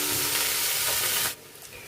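Amla (Indian gooseberries) drop into hot mustard oil tempered with dry chili and five-spice, giving a close, hissing sizzle that cuts off sharply to a faint crackle after about a second.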